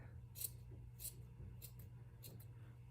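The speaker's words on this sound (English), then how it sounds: "And then I do some trimming to make all the sides the same length. So that side's a bit long. I'm gonna cut it." Scissors snip at a yarn pom-pom in a few separate quiet cuts, spaced roughly half a second to a second apart, set against a steady low hum.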